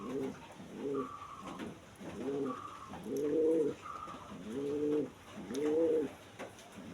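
A pair of pigeons at a pigeon farm coo repeatedly in low, rolling, bubbling phrases, about one every second, close and clear with little else around them.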